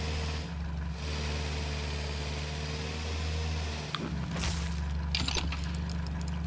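Tractor engine idling in the farming video game Farm Together 2: a steady low mechanical hum holding throughout, with a few brief clicks and clatters toward the end.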